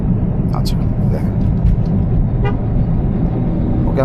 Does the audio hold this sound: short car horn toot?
yes